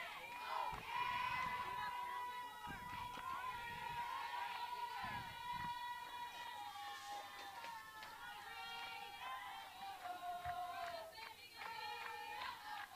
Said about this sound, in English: Lots of energy coming from that Pioneer bench, trying to cheer Brown on to get the first hit of the game for the Pioneers